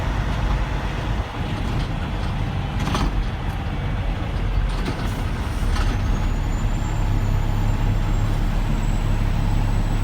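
A 2013 Peterbilt 386 day cab truck with a 450 HP Cummins pulling away in third gear: a steady, loud low engine drone heard from the cab, with brief hissing bursts and a faint rising whine.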